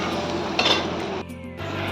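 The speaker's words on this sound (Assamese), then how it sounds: "এইখিনি অকণমান ভালদৰে লৰাই লওঁ আৰু অকণমান ভাজি লওঁ" Cumin and chilli powder being stirred and fried in a pan, with a few quick metallic clinks of a utensil against the pan over a low background of frying noise.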